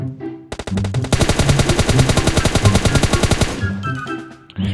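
Automatic gunfire in the video game PUBG Lite: a loud, rapid burst of shots lasting a few seconds, with a few single shots around it.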